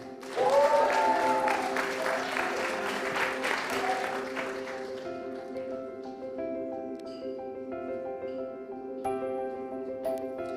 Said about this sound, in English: big round of applause for Aloma Esterhazen